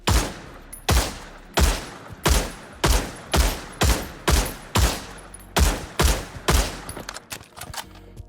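FAMAS rifle fire in the VR shooter Pavlov VR: about a dozen loud, sharp shots in a steady, evenly spaced rhythm, each a crisp crack with a short tail, heard alone with no talking.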